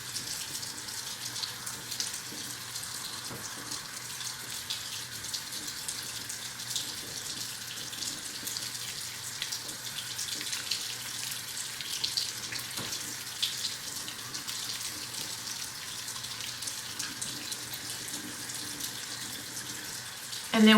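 Steady water runs from a bathroom tap into a sink for rinsing the face during a nighttime skincare routine, a continuous close hiss lasting throughout with no talk.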